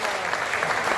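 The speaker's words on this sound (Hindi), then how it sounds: "जोरदार तालियां, सारे लोग जोरदार तालियां।" A live poetry event audience applauding, a short burst of loud, dense clapping heard close.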